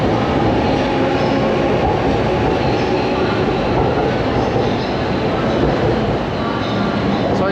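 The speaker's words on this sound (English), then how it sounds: "Here, you can see this train. This is like a subway, but right above it is another train platform that's elevated." A subway-style train runs past on the track beside an elevated platform, a loud, steady rumble of wheels and cars holding without break from start to finish, close by.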